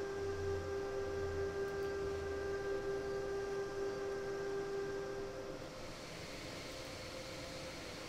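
A steady mechanical train hum in the video game Train Sim World 3, with a sustained whistle-like tone, running evenly at moderate volume, fading slightly near the end.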